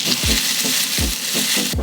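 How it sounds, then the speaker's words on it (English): Onions sautéing in oil in a pan for a St Lucia-style dhal and saltfish pie filling, a bright steady sizzle with a few soft stirring thumps, close and loud, no talking. "I'm going to add some oil to the pan and start by sauteing the onions"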